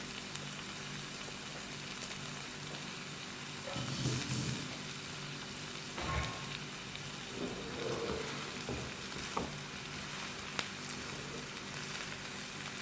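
Boiled basmati rice is stirred into a corn mixture frying in a pan. A steady soft sizzle runs underneath, with a few louder scraping, stirring pushes and a sharp clink near the end, fairly quiet overall.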